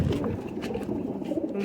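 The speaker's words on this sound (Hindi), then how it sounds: "ये कबूतर देखें" Soft, low pigeon cooing rolls on steadily for the whole moment, nearby and unhurried, with faint background rustle.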